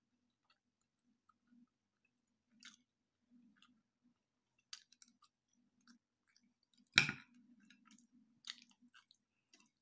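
Sparse, quiet wet chewing of food during a mukbang meal, with soft smacks and clicks spread irregularly over a near-silent background and one louder crunching bite in the middle.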